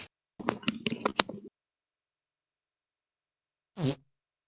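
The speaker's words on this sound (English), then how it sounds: "Popcorn fart." A single short, reedy fart sounds close to the microphone after a few seconds of quiet, preceded by a brief stretch of someone talking.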